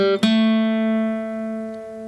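Guitar plays the intro riff of a song in standard tuning, a single plucked note ringing out clearly and sustaining alone.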